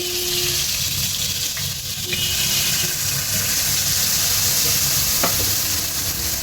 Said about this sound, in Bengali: এবার পটলের সাথে মশলার সাথে নুন হলুদ দিয়ে ভালো করে কষিয়ে নেবে